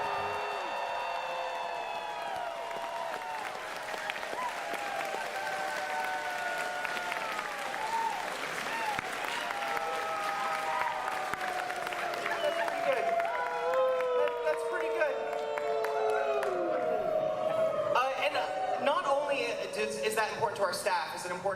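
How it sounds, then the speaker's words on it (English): A large convention audience applauds and cheers for a sustained stretch, dense clapping with rising whoops and shouts layered throughout, loud and continuous with voices mixed into the din. "Can you give them the greatest cheer you ever have given in your life to thank them for all that they've done this year?"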